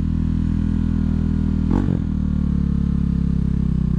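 A KTM Duke 390 motorcycle engine idling unusually high, a steady close drone with a strong low hum throughout, interrupted once near the middle by a brief clatter or knock before the even idle resumes.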